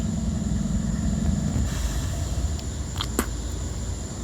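A steady low rumble of a southbound freight train locomotive idling nearby while refueling, with a continuous engine drone and a brief metallic clank near the end.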